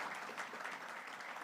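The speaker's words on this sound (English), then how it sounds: "Let's give them a round of applause one more time." Applause from the audience at the opening ceremony of Caribbean Week of Agriculture 2023, following a children's production by a primary school; a steady, faint wash of clapping with no pauses.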